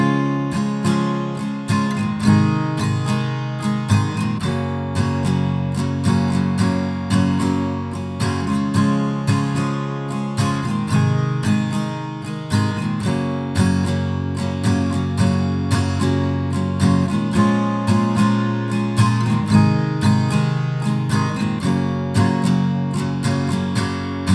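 Strummed guitar chords ring out in a steady repeating pattern, loud and close, with no voices.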